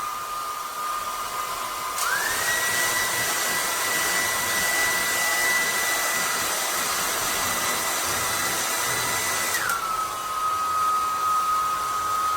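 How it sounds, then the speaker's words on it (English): A hair dryer blows steadily and close to dry freshly airbrushed paint, its broadband whoosh rising in pitch after a couple of seconds as the setting changes, then dropping back near the end. "Hair dryer."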